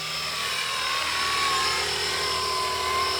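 A Blade Eclipse 360 radio-controlled helicopter flying, its rotor and motor giving a steady, loud high whine with a sustained tonal pitch that holds throughout, with no talking.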